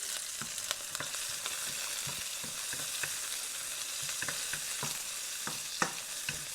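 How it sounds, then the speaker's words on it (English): Half a pepper sautés in a hot pan, a steady close sizzle and crackle with frequent stirring scrapes and taps throughout, no voices. "And I'll put a half of that pepper in there for flavor. And I'll saute."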